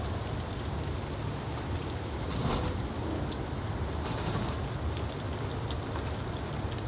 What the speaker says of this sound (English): I'll give it a misting too.